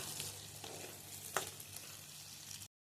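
Capsicum pieces fry in a pan for a prawn cashew masala curry, giving a soft steady sizzle with a brief stir, faint and close, before cutting to silence.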